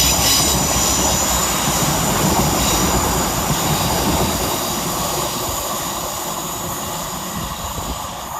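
A class 156 diesel multiple unit, 156470, passes through Edge Hill station in Liverpool with a loud, close rumble of engine and wheels and high squealing tones that fade slightly as it moves away.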